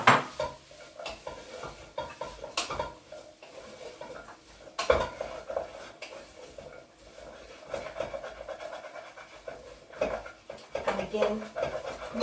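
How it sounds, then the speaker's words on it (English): A metal spoon scrapes and clinks against the bottom of a saucepan of Mexican-style beef stew with carrots, giving irregular close scraping strokes and knocks over soft cooking noise, with a voice talking through much of it. "rub the bottom of the tip of the saucepan with your spoon to loosen up all the flavours"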